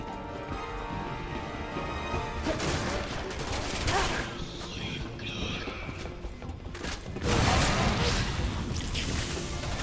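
Gunfire in Resident Evil 6 rattles in dense bursts among chaotic game noise and crashes, fairly loud and sustained, with a player talking in French over parts of it.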